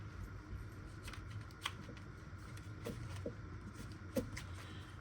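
Stiff tarot cards shuffled by hand: soft riffling and rustling with several sharper snaps and flicks at irregular intervals, close and quiet.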